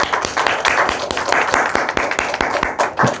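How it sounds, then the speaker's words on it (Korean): A church congregation claps in praise during a Korean worship service, a loud run of sharp, fairly regular handclaps from many people close by, sustained for a few seconds with no talking. "하나님께 영광의 박수 올려드리십시다"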